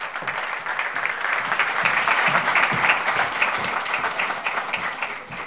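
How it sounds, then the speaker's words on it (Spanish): An audience at the Rubí Brilla city congress applauds the mayor of Rubí: sustained, even clapping from a large room that holds steady throughout and tapers slightly at the end. "Por favor, un aplauso para ella."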